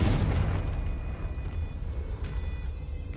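A spell explosion in the Hogwarts Legacy video game, a loud booming blast at the start that rolls off into a rumbling, crackling decay.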